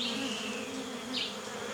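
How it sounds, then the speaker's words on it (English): Bees buzz steadily around a wild beehive on an island, a continuous close drone with a deep hum beneath higher whining wingbeats, rising briefly as one passes near. "I can hear buzzing. I can hear like a deep drone, actually."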